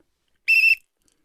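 A single sharp whistle blast, loud, close and about a third of a second long, sounds once from silence during a virtual comedy improv match to restart play.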